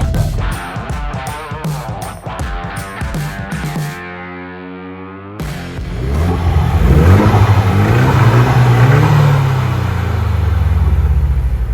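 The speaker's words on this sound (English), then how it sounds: "press your button going vroom, vroom, vroom with the key fob" A 2024 Ford Mustang EcoBoost with its turbocharged four-cylinder, started by remote rev from the key fob, rising from a brief lull into a loud, sustained revving rumble that swells and holds up close.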